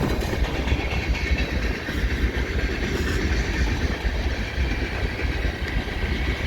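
A CN freight train rolls past the VIA Rail station in London, Ontario, its wheels keeping up a steady, close rumble and clickety-clack of railcars for the whole stretch, with no voices.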